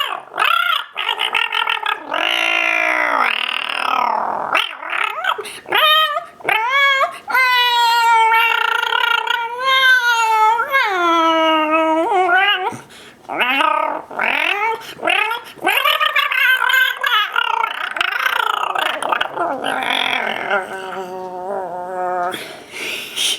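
A person's voice imitates a rabid cat, producing loud, sustained wailing, yowling and growling cries close up, rising and falling in pitch with brief pauses between strained bursts.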